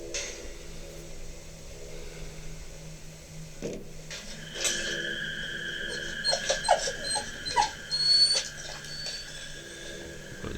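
A frightened dog whimpers and squeals inside a house during unnerving static-camera footage, thin high-pitched cries rising in several short bursts over a steady background hum, growing louder toward the end.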